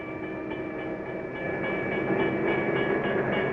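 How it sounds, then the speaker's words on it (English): A freight train rolls into its first stop, loud and close, with rhythmic clickety-clack of wagon wheels and a steady tonal rail whine building slightly toward the end. "Soon the freight train arrives at its first stop."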